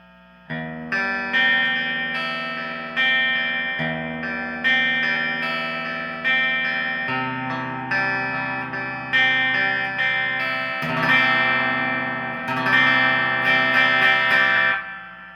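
G&L Legacy USA electric guitar on its bridge pickup alone, with a bright, biting tone, plays a sequence of sustained chords and notes, each strum ringing out and decaying, loud and close.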